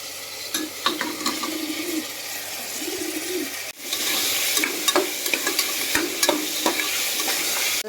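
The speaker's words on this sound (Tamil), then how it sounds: "இப்போ வெங்காயம் வதங்கி வருது. இப்போ தக்காளியும் கொத்தமல்லியும் போட்டுறேன். இஞ்சி பூண்டு போட்டாச்சு. கறி போட்டுடலாம்." Mutton sizzling in a pan with onion, tomato, coriander, ginger and garlic, a steady frying hiss broken by stirring scrapes, growing louder partway through, with birds cooing faintly in the background.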